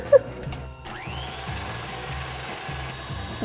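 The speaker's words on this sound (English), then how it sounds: "I'm gonna add the egg whites straight to the mixer." A stand mixer beats egg whites with cream of tartar, a continuous whirring motor drone with a faint rhythmic scraping texture, preceded by a brief click, steady and close with no voices.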